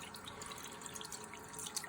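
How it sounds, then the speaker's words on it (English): Tap water runs steadily through a shaving brush knot at a sink, a soft continuous splashing hiss with faint drips, close and fairly quiet, with no talking. "Try to get as much water as possible through this brush knot."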